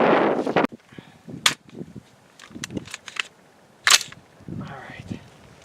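Gunshots at a bulletproof target on a shooting course, several sharp broadband cracks spaced a couple of seconds apart, loud and close, with quieter handling noises and brief voices between them.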